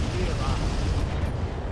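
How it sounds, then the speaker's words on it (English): An ultralight rotary rifle fires in X2 mode during a mech battle in the RogueTech video game, a dense, continuous rattle of rapid shots that stays loud throughout. "we'll fire the ultralight rotary rifle in like X2 mode"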